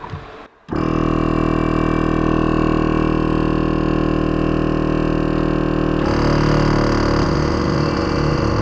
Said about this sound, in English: And you'll certainly hear the difference in the compressors.